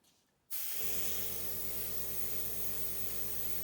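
An aerosol spray can starts abruptly and hisses steadily and loudly at close range as colour is sprayed onto a hydrangea flower about two inches away, continuing without pause.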